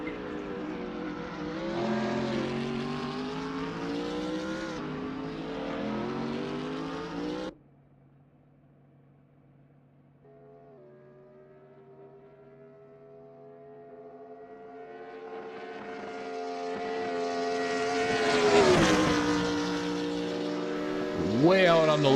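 A BMW race car in Gran Turismo at Spa, its engine droning and holding high revs near the limiter, fading briefly then building again in pitch and loudness toward a peak, with no talk over it.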